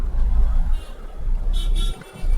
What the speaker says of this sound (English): I have to accelerate now